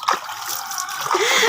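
Water splashes and trickles steadily while a rooster is bathed, a busy wet sloshing that carries on throughout with a brief burst near the start.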